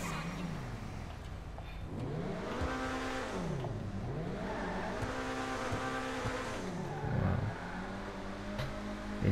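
Engine of a C8 Corvette driven in a GTA video game, a steady loud drone with repeated rising and falling revs across several gear changes, no talk.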